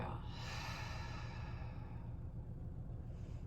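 A long, deep breath out during a yoga session, a soft airy rush of air close to the mic that swells and then slowly fades over a few seconds.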